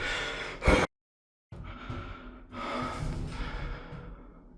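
Heavy, shaky breathing from a person stuck in a broken lift in Thailand, a sharp gasp and snort followed by silence, then long loud breaths close to the mic.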